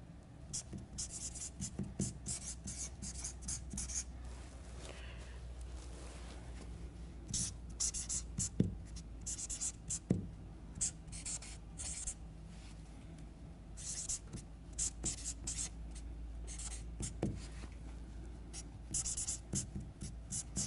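Soft, continuous scratching of a pen or pencil on paper, close and quiet, with small irregular strokes and taps over a steady low background hum.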